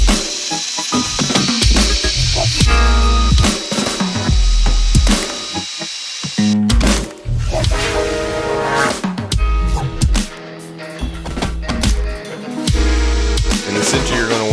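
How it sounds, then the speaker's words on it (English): A hand drill boring through aluminum for a homemade camera slider, loud whirring bursts that start and stop repeatedly with grinding, ratcheting metal contact, close up and alone. "you're going to drill up to 5/16 all the way through the aluminum."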